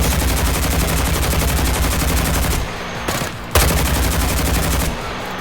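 Enemy gunfire in the game Helldivers: loud, rapid automatic fire that pounds on without letup, breaks off briefly about halfway, then resumes just as dense.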